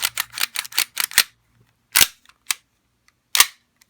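A Tokyo Marui M9A1 stainless plastic airsoft pistol fires a quick string of about seven sharp cracks, followed by three more spaced single shots, close and crisp, with no talking.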